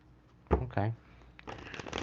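A deck of tarot cards being shuffled by hand, two quick riffling bursts up close followed by softer card handling, with no voice over it.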